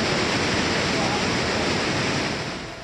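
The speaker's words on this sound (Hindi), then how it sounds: "दरअसल इस आश्रम से सटा हुआ एक झरना है," A waterfall beside an ashram, swollen by rain, sends floodwater rushing in with a loud, steady, broadband roar that fills the whole clip and fades slightly at the end.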